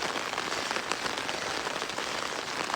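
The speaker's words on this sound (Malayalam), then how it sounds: "ഭയങ്കര മഴയാണ്." Heavy rain pours in the early morning on a quiet side road, a dense, steady hiss of drops hitting surfaces with no pauses and no voices.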